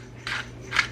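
A pepper grinder turned over a dish during home cooking, two short gritty grinding twists close by over a low steady hum.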